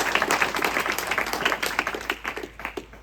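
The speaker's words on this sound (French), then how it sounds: "on peut les applaudir." An outdoor event crowd at a seaside town claps to thank the town hall, a lively burst of hands with distinct individual claps that gradually thins and fades toward the end.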